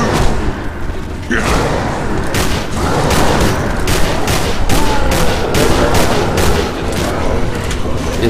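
Gunfire in the Night Frontier video game, loud continuous volleys of shots with booming impacts, dense and close throughout, with faint voices mixed in.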